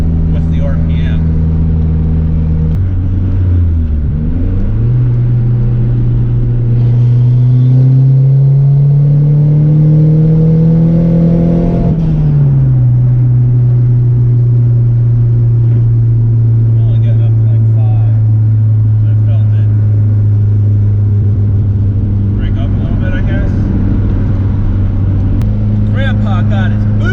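A turbocharged car revs hard through a donut, engine pitch sweeping up and down in long held pulls with a steady loud rumble, and voices talk over it near the start and end.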